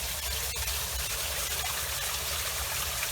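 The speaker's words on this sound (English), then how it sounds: "right down to the aquifer, sucking all this water out like a drain" A Florida stream drains down a tube-like cave hole toward the aquifer, making a constant close rushing gurgle of water, loud and steady with no talking.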